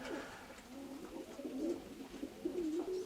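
Pigeons coo close by in a low, rolling warble, with several soft repeated calls rising and falling in quick succession.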